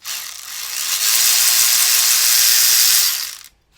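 A ratchet spins a 12 mm nut off a stud on a 2015 Chrysler 200 with a 2.4L engine, a loud, close, steady buzzing whir lasting about three seconds before stopping abruptly.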